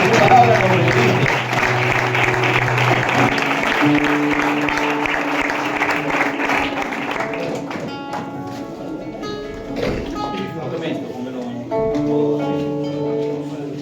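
A church congregation claps together during a sermon, a dense, loud round of applause for the first half. It thins out as sustained keyboard notes take over.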